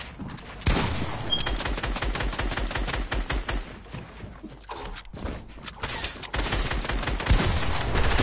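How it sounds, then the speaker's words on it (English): Rapid game gunfire from a free-for-all shooter match, dense bursts of shots crackling steadily for several seconds, loud and close, with a brief lull midway before the firing resumes. "Why are you shooting me, bro?"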